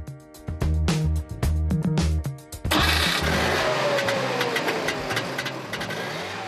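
A two-cylinder, 0.6-liter two-stroke Trabant 601 engine cranks over in loud, sputtering bursts, then catches and settles into a rough, buzzing idle close by.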